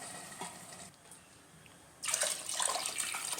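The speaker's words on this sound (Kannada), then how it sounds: "ಈಗ ಅದಕ್ಕೆ 2 ಬೌಲ್ನಷ್ಟು ನೀರು ಹಾಕ್ತೀನಿ." Two bowls of water gush into a pressure cooker holding rice, a steady loud pour that starts abruptly after a quieter stretch and runs to the end.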